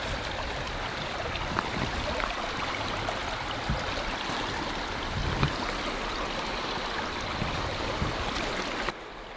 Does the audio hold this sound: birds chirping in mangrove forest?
no